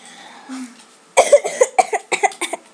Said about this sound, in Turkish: Var konuşmaktan çok öksürükle geçti video ha.